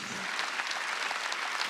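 A church congregation claps together during a Sunday worship service, a steady, dense wash of hands from many people filling the room for a short burst.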